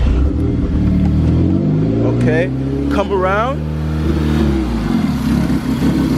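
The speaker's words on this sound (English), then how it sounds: "I could start the car real quick" A Volkswagen GTI engine fitted with a K04 turbo and a large boost leak rumbles steadily up close, with people talking over it throughout.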